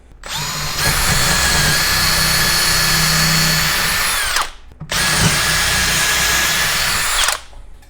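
A Makita XHP14 18V LXT cordless hammer drill runs in two sustained, loud bursts, its steady high whine spinning up, holding, then winding down with a short pause between.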